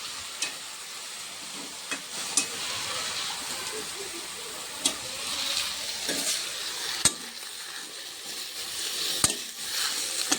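Dill and fenugreek greens stir-frying dry in a pan, a constant hissing sizzle with occasional sharp clicks of a spatula against the pan, close up and with no one speaking.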